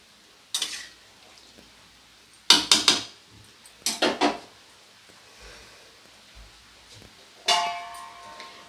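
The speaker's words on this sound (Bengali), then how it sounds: "এবারে দিয়ে দিলাম ঢাকা চাপা" A metal lid set onto a cooking pot during egg biryani preparation, a few sharp clanks and clatters spaced apart in a quiet kitchen.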